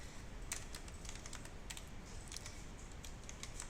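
Quiet computer keyboard keys clack in a scattered run of light, close taps while working in Photoshop, with no voices over them.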